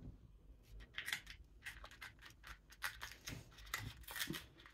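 Scissors snip repeatedly through thick, very sticky adhesive tape while assembling an A4 paper moodboard, a quick series of close, crisp cuts with faint rustling of tape and paper between them.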